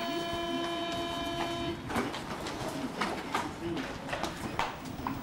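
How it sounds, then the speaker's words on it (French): A French train's departure warning signal sounds as a steady electronic beeping tone on a platform for about two seconds, then stops, leaving station bustle, footsteps and clatter. "Le signal sonore indique à l'usager qu'il est trop tard pour monter dans le train."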